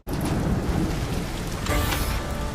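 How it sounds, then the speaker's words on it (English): Heavy rain falls steadily in a dense, loud, continuous hiss that fills the whole moment, with no voices. "the next day it started to rain again, and this time it didn't really stop for the next 6 weeks"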